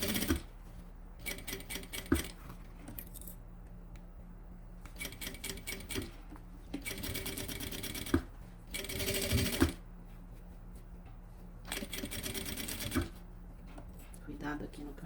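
A sewing machine stitches a luxury zippered pouch in several rapid whirring bursts of a few seconds each, separated by pauses in which someone talks softly.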